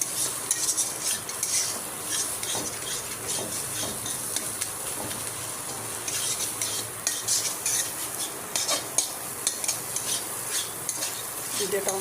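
Tomato, onion, green chilli and eggs fry in a pan with continuous sizzling and repeated scraping strokes of a spoon against the pan, close and steady throughout.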